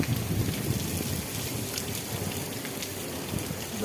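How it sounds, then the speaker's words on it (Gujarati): Heavy morning rain pours down in a dense, continuous hiss of drops striking surfaces, steady and close throughout with no voices. "જો સવારનો વરસાદ પણ એટલો બધો ચાલુ છે"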